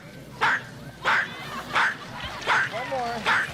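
A man imitates a very small dog such as a Chihuahua, giving five short, high yapping barks at an even rhythm, each one clear and close against quiet background noise.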